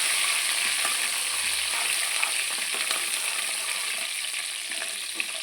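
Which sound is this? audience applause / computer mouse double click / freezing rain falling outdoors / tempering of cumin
tempering of cumin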